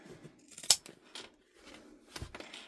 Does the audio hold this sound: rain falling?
no